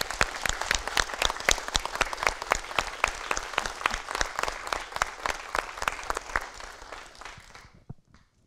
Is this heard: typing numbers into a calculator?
no